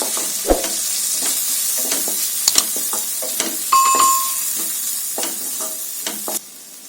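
Masala sautéed in oil in a pan for an okra fry: a loud, continuous sizzle broken by frequent scraping and clinking stirring strokes, with a clear utensil knock early on before the sound drops away at the end.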